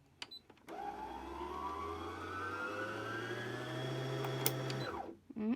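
An Innovis NQ1600 sewing machine winds a bobbin, its motor spinning up into a steady rising whine with a low hum that runs for several seconds before stopping, with small clicks at the start and end.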